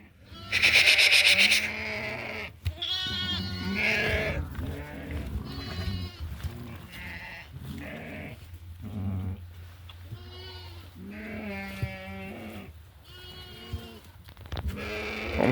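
A flock of pregnant sheep, some carrying twins, bleat repeatedly and loudly in overlapping calls close by, with someone speaking briefly among them.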